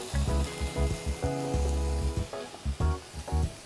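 Steady frying sizzle of chicken spread in a pan, close and fairly loud, with bursts of hissing and occasional stirring clatter.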